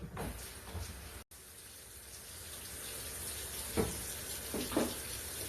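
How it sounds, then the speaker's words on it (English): Tap water runs steadily into a kitchen sink as hands are washed during cooking, a soft continuous hiss with a brief break and a few louder splashes near the end. "I'm over here washing my hands."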